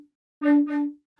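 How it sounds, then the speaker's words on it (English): An eighth-note synth or flute-like tone run through an Echo Boy delay plugin: a short sustained pitched note with a softer repeat following closely, then a faint trailing echo, heard alone. "I'll take a plugin like Echo Boy, put it on a simple eighth note"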